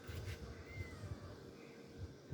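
A cat meows faintly and plaintively a few times against a low, rumbling background, close but quiet; a female cat that has given birth five times.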